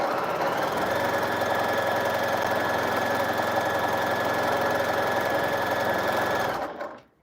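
A sewing machine stitches half square triangles for a quilt, running in a steady, close, continuous mechanical whir before stopping abruptly near the end, with no voices.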